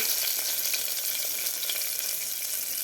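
Curry leaves fry in hot oil in a pan, a loud, continuous, close crackling sizzle with a few faint stirring touches.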